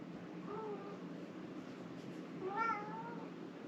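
A pet cat named Katniss gives two soft meows, the second longer and more pitched, close by in a quiet room with faint background hum.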